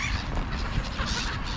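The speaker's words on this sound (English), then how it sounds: "Look at these little gulls." Small gulls calling outdoors near a field: a dense, continuous wash of overlapping honking cries from a flock, loud and steady throughout with no voices.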